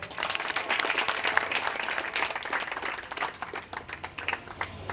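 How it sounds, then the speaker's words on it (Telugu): A meeting audience applauds to approve resolutions, with dense sustained clapping from many hands that slowly thins out, and a few faint voices mixed in. "ఈ తీర్మానాలు ఆమోదం అయితే అందరూ చప్పట్ల రూపాన తెలియజేయాలి"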